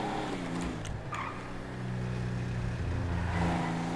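A car in GTA V pulling away, its engine droning steadily and rising slightly in pitch as it accelerates, close and continuous throughout with no talking.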